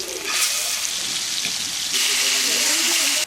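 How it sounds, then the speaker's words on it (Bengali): Oil heats in a kadai before a boal fish goes in, giving a crackling, hissing sizzle that runs steadily for a few seconds and grows slightly brighter toward the end. "এখন রান্না করার জন্য আমি কড়াইয়ের মধ্যে তেল দিয়ে দিলাম।"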